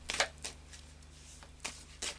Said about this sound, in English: we'll just do a final shuffle of the Anake Tarot.